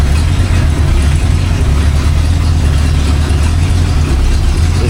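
Rebuilt Ford 289 V8 idling at about 600 RPM on a home-made engine stand with fresh 5W30 synthetic oil, a steady deep low rumble held close and loud throughout with no talk.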